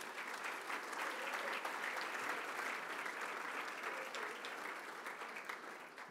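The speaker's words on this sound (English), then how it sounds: "Let's give them a round of applause." A round of applause from the audience at the Long Island Association annual event honoring named guests, a dense, continuous roar of clapping that holds steady and slowly tapers off, with no speech on top.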